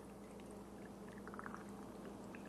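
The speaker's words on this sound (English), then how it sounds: "Then add enough cold water to cover it, to come all the way up to the top." Cold water pours over pickling spice in a jar, a faint, steady trickle with small splashes and bubbling near the middle, alone in a quiet kitchen.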